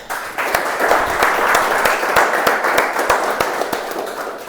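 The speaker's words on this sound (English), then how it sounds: "let's give a huge round of applause for that wonderful speech given by Toastmaster Sunanda." A room at a Toastmasters meeting applauds a speech, with dense, steady clapping from many people lasting several seconds at close range.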